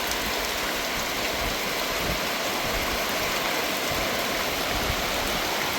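Dense, heavy rain pours down in a forest, a constant loud hiss with no break and no voices.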